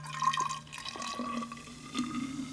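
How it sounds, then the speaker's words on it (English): Liquid poured into a bottle, a short trickling, gurgling flow with rising tonal ring as the vessel fills, close and fairly quiet. "And I'm gonna pour this in the bottle."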